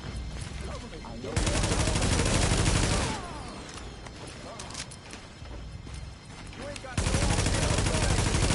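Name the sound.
gunfire from The Division video game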